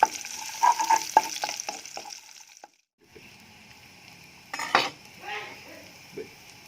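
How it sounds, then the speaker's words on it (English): Shallots soften in a pan with a quiet sizzle, broken up by clinks of a spoon against the pan and brief stirring scrapes at a fairly close distance. "Need to soften the shallot."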